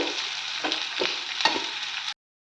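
Spice masala and coconut fry in a pan over a medium flame, a steady close hiss with a few soft stirring scrapes, then it stops abruptly into silence.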